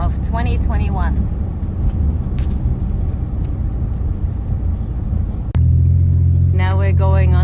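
A car rumbles steadily along a highway during a 2021 winter snowstorm, road noise droning throughout while people talk over it at the start and end.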